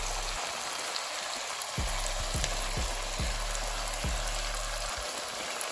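Spices and herbs hit a hot pan of potatoes for a chickpea curry and set off a loud, steady sizzle, close up, with a few soft knocks from the pan along the way.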